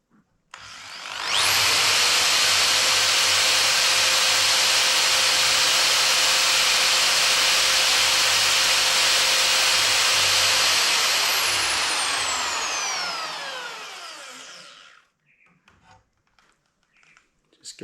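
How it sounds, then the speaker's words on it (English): A high-pitched power drill whines steadily and loudly for about fourteen seconds drilling tiny oil holes in metal for a BSA Bantam 125cc race bike, then spins down and stops, leaving faint clicks. "what I'm going to do now is just drill the oil holes in it"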